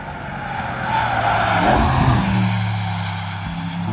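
A BMW M5 CS at the Nürburgring, its engine note rising and swelling as the car passes fairly close with some tire noise, then easing back as it pulls away.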